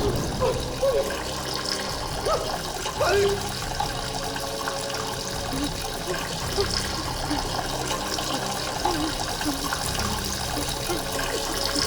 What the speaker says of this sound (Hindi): पानी बंद करो।